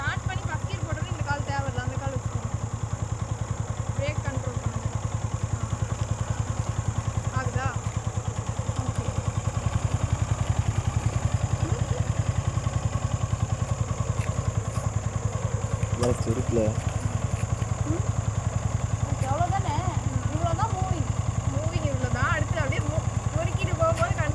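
A motorcycle engine idles and runs steadily throughout while a beginner learns to ride, a close continuous low putter with a woman and an instructor talking over it.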